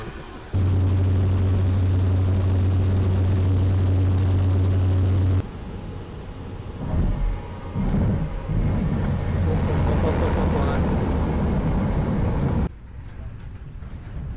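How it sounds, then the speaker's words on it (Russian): A small propeller airplane (kukuruznik) engine drones loudly and steadily, with a strong low hum, a brief dip and shift midway, then continues before dropping off near the end. "Вот на таком самолете мы сейчас полетим. Наш кукурузник."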